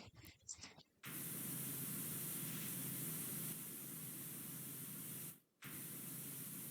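Pressure washer spraying in the Powerwash Simulator video game while cleaning a bike in a museum, switching to a bigger nozzle: a loud, steady close-up hiss that starts after a second of muffled sound and cuts out briefly near the end.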